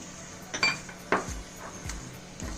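Oil syrup for mango pickle being stirred in a pan, giving a few clinking scrapes of a spoon against metal at irregular intervals, moderately close with a low hum behind.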